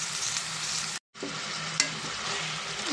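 A spice mixture fries in a pan on a low flame, giving a loud, steady hiss and sizzle that breaks off for a moment before resuming, with no talk.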